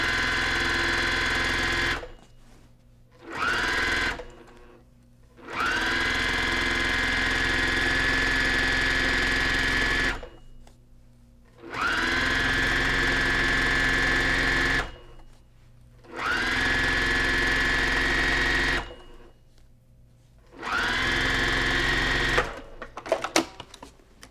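A sewing machine stitches a pleated pillow top in five long steady runs, each several seconds, separated by brief pauses, loud and close with a constant motor whir.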